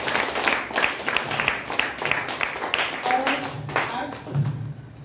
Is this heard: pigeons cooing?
no